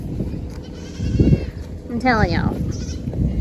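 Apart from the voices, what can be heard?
goats bleating on a goat farm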